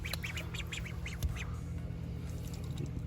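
Several ducks at a pond give a quick run of about eight rhythmic quacks, fairly faint and alone at first, followed by quieter background rustle.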